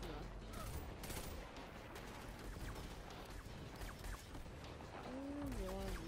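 Enemy gunfire in the shooter game Destiny 2: dense, loud bursts of rapid shots and impacts blend into a continuous crackling barrage, with a player talking over it and short whining energy-weapon tones near the end.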